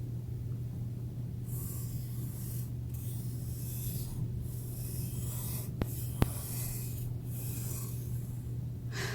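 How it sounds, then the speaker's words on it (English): Steady pencil scratching as flowers are drawn on paper in a kindergarten art lesson, soft repeated strokes with brief pauses, close and quiet over a low steady hum. "I'm going to draw all of my flowers first."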